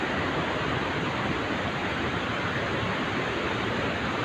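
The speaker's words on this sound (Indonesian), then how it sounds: "Kita akan ke air terjun Bumbun." Bumbun waterfall pours in a steady, dense roar of rushing water, loud and close with no break and no voices over it.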